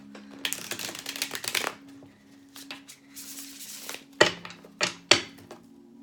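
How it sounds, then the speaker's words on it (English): Tarot cards being shuffled by hand: a quick riffle of crisp papery flutters, then a few sharp taps and snaps as the deck is squared, close and fairly quiet, with a faint steady hum underneath and no talking. "One quick shuffle."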